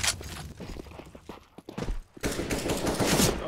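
Bursts of video game gunfire crackle in rapid volleys, dipping briefly before a louder, sustained barrage returns near the end, with no talk over it.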